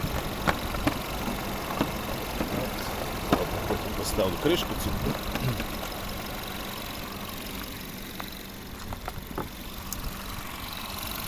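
The 1.4-litre 150 hp engine of a 2010 Seat Ibiza FR with automatic gearbox idles with a steady low rumble while a person talks nearby and small clicks and clatters sound.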